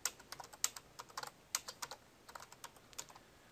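Keys on a computer keyboard clatter in an irregular run of about twenty quick, light strokes, faint and close, with no other sound around them.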